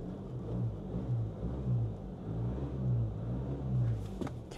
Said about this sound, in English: can hear the exhaust, really nice